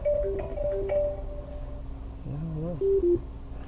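Electronic two-tone incoming phone call chime pulses from a Honda Accord's infotainment system, a short repeating ringtone pattern with a brief pause, fairly close and clear.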